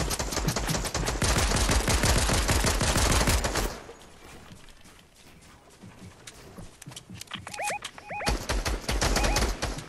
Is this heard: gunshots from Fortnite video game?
yes